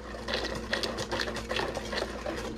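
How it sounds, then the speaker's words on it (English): A whisk beating a heavy cream mixture for aged eggnog in a bowl: quick, rhythmic, close strokes with a faint steady hum underneath. No one talks. "So now we're going to whisk this together slowly."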